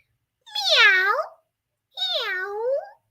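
A person's voice imitates a cat meowing twice, two drawn-out, rising-then-falling meows separated by a short pause, close and clear.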